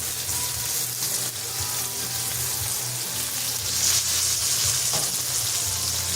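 Chicken and celery pan-fry in hot oil with a loud, constant sizzle and crackle, close up and steady throughout, with occasional stirring noises and no talking.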